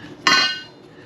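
A single sharp metallic clank as the handle of a Harbor Freight hydraulic bender is pumped while bending steel for rock sliders, ringing briefly before fading, close and alone.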